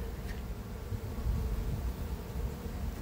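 Honeybees at a newly set up apiary drone in a steady, close swarm hum that holds throughout, a continuous low buzz with no voices.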